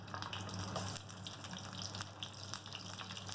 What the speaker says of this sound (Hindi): बिल्कुल लो हीट पर हमें इन्हें फ्राई करना है